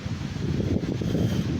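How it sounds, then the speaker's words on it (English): High winds gusting outdoors at night at an estimated 40 to 50 mph, a dense roaring rush with buffeting on the microphone, loud and continuous without speech. "You hear that wind?"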